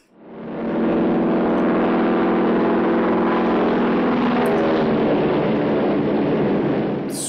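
A propeller aircraft in the film Tora! Tora! Tora! roars in, swelling quickly to a loud, steady droning hum that holds throughout, close and overpowering.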